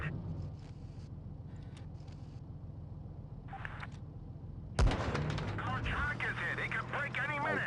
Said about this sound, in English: I take a hit to the tracks